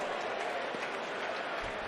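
Giants fans at a baseball stadium giving an ovation during a Padres vs Giants game, a dense, sustained wash of applause and crowd noise, fairly distant and steady throughout.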